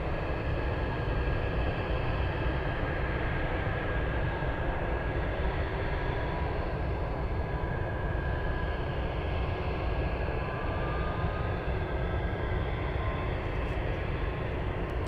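A Boeing 747 Dreamlifter cargo jet at Anchorage airport gives a loud, steady, unbroken engine roar that holds for the whole stretch.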